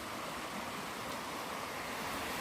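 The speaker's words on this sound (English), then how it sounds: "We're right next to a creek. Beautiful flowing creek." Steady broadband rush of a flowing creek beside a campsite on the Kaibab Trail in the Grand Canyon, a continuous even wash of water with no breaks, moderately loud and close.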